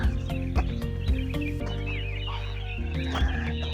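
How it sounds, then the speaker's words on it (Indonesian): A rooster crows in the distance over a steady low rumble before dawn on Mount Kelud, with a few short clucking bursts close by. "Ada suara ayam."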